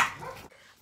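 A single short, loud dog bark at close range, indoors in a bedroom, cutting off abruptly into quiet.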